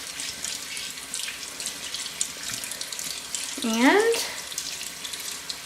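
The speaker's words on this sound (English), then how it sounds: "I'm gonna wash my hands off." Water running from a tap at a sink during hand washing: a steady close rush with a brief rising squeak partway through and a spoken word at the start.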